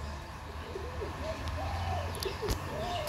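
Farm pigeons coo in soft, rolling calls repeated several times at close range over a low background murmur.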